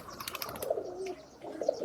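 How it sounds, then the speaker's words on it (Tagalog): Soft, low cooing from pigeons close by on a farm, a few gentle repeated calls in a quiet setting. "Ay, mga kalapati."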